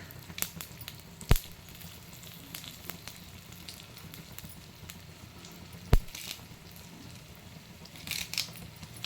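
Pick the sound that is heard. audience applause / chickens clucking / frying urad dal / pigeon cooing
frying urad dal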